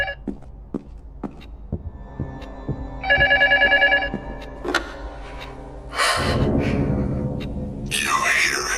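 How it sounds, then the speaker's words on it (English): Old telephone ringing in the horror video game Luto, a buzzy electronic ring of about a second rising over dark ambient hum, low throbbing and scattered knocks, later swallowed by a swelling noisy drone. "The phone keeps ringing."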